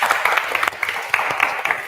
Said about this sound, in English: And to our awesome US partners, please give them a round of applause.